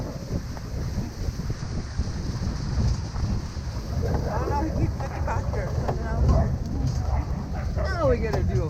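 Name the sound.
sled dogs barking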